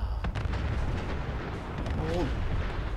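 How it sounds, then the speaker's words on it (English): Heavy explosions from the video game Fallout at a Warwick homestead: a sustained, loud rumbling barrage of booms and blasts filling the whole stretch, with a few sharper bursts on top. "What is with the explosions?"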